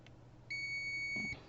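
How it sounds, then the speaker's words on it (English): A budget multimeter sounds its continuity beep, a steady high electronic tone of just under a second, faint but clear over quiet room noise during a repair of a Panasonic LCD TV. "then it beeps"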